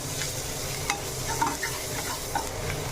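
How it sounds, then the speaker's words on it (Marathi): Ground coriander and turmeric roast in a hot pan for bitter gourd, a soft steady sizzle with a few faint stirring scrapes, no talking. "मग त्याला मस्त भाजून घ्यायचं."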